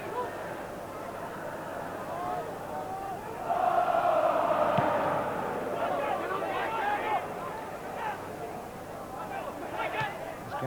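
A football stadium crowd at a Liverpool versus FC Tyrol UEFA Cup match murmurs and then swells into a loud cheer as a player runs on goal, while a commentator keeps talking over it.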